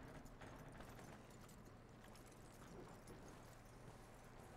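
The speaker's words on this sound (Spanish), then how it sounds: "Guía al caballo." Horse hooves clip-clopping at a walk in the video game Red Dead Redemption 2, a faint, steady patter of steps under low ambient game noise.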